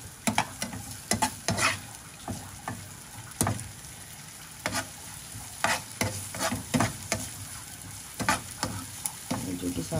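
Corned beef sautéed in a pan while being stirred, a soft steady sizzle with bursts of scraping and clattering utensil strokes in irregular clusters, close and without talk.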